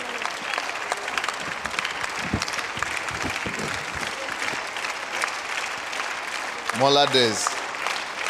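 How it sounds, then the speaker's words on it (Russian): A church congregation applauds steadily and fairly close for several seconds, the dense clapping fading as someone speaks briefly near the end. "Так что давайте воздадим аплодисменты Богу за профессор Винсент."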